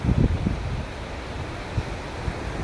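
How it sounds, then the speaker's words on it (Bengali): Gusty stormy wind of a nor'wester sweeps through village trees, a loud steady rush with buffeting bursts against the microphone and no talk. "ঝড়ো হাওয়া বইছে চারিদিকটা একদম"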